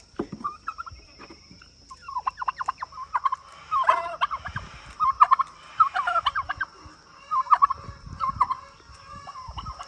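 Chickens on a small backyard mini farm, a flock clucking and chattering in repeated bursts throughout, fairly close and lively, with no talking.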